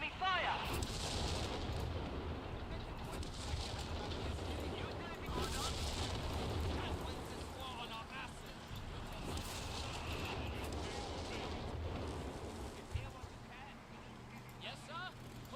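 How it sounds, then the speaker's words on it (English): Artillery shells and gunfire pound a support company structure during a war video game battle, a dense, continuous barrage of booming blasts and crackling shots that stays loud throughout. "Support company structure is taking enemy fire."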